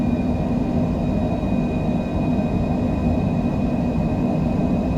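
Jet engines hold a steady, dense roar at takeoff power as the aircraft rolls down the runway, heard from inside as a constant loud rumble with a faint whine on top.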